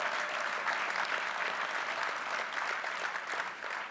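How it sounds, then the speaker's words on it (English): A round of applause from the crowd at a New York State AFL-CIO constitutional convention, dense and even clapping that holds steady and eases slightly at the end. "let's give him another round of applause."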